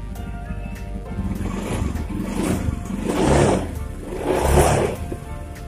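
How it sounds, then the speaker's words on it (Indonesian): A car engine being revved at idle while the battery charging current is measured with a clamp ammeter, rising in two swelling surges, steady and fairly close. "Coba kita akan sambil digas. Jika sambil digas,"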